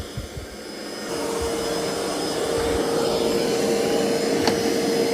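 Eufy X10 Pro Omni robot vacuum and mop running at maximum suction, a steady loud whirring roar with a high whine that holds evenly throughout after a brief quieter start.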